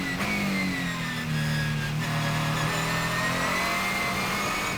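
A Ligier JS2R race car engine roars on track, loud and close, its pitch sliding down as it lifts and then climbing again under steady load, with no talking.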